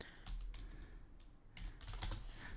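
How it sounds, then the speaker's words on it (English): Typing on a computer keyboard: quiet, close clusters of rapid key clicks in short bursts with a pause between them. "I'm going to type in the same thing that you have here"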